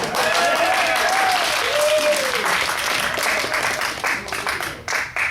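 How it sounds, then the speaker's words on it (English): Loud theater audience applause at a Shakespeare comedy performance at the Virginia Theater, dense clapping with whoops and cheering voices rising over it, then tapering into scattered claps. "give him a round of applause"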